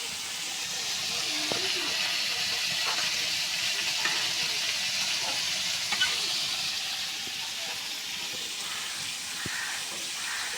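Fish sizzle in hot oil for a Bengali fish curry with bitter gourd. A steady, close hiss of frying runs throughout, broken by small scattered pops and crackles, with no voices.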